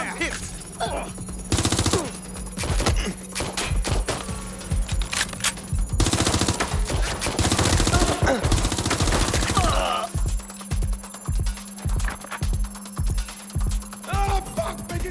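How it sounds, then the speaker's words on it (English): Machine guns fire in the Watch Dogs Legion video game, long loud rattling bursts of rapid shots, then a steady rhythmic series of distinct rounds near the end, with occasional voices. "Open fire!"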